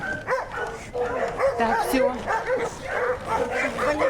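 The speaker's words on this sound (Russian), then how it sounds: "И там же собачки сидят." Dogs at a shelter bark and whimper in close, overlapping bursts, with yips and whines running steadily throughout, while a person talks briefly nearby.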